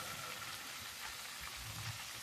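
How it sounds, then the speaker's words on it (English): Steady crackling sizzle of chicken wings deep frying in hot oil, a dense continuous hiss with small pops throughout, no voices. "And that's the first frying, all right? The first step of frying."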